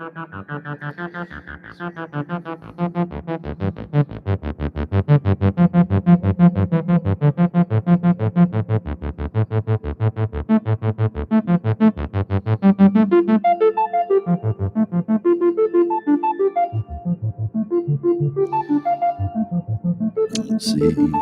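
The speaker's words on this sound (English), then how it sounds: "turn it on that real spring reverb" An electric guitar plays a sustained, strummed passage drenched in a wet, splashy spring reverb, with notes ringing and trailing off throughout.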